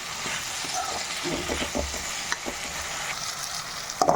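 A large tomato fries with onions in a pan for drumstick tamarind kuzhambu, producing a continuous close sizzle with scraping stirs and a few clinks near the end. No voice is heard.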